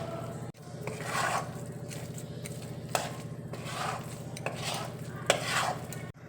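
Grated khoya stirred in a pan over a low flame for payesh, giving soft repeated scraping strokes and occasional utensil clinks over a faint sizzle, close and without talking.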